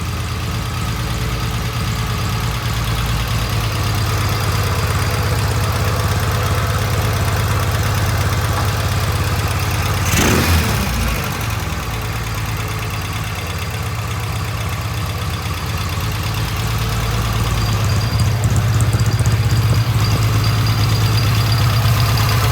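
A 1971 Norton motorcycle engine idles steadily up close for the whole stretch, with a brief sharp blip of revving around the middle before settling back to a low, even idle.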